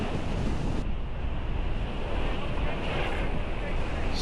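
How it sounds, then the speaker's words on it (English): Strong wind roars across the microphone on a racing sailboat surfing big Bay of Biscay waves during an ocean race leg, a dense continuous rush of wind and water noise, with a voice faintly underneath. "now surfing big Biscaya waves"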